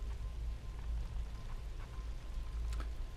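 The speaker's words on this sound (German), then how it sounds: "Es regnet so fürchterlich." Heavy rain in the survival video game The Tribe Must Survive, a steady dense hiss of rainfall with a deep low rumble underneath and scattered faint droplet ticks, no voices.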